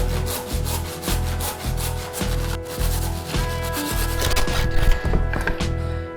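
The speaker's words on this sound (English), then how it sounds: "This is a track saw and hopefully it'll work a little bit better than my circular saw" A track saw cuts through a piece of wood trim: a steady, close motor drone with a grinding, rasping bite as the blade moves through the wood.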